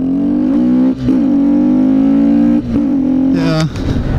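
A Kawasaki Z125 motorcycle engine revs hard and steadily, dipping briefly between pulls and rising to higher-pitched bursts near the end, loud and close with no one talking.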